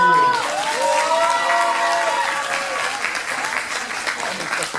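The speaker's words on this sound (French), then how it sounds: "On applaudit l'assistant." Audience applause at a cosplay parade, sustained crowd clapping with scattered cheers, and a voice calling out briefly at the start before the clapping carries on alone.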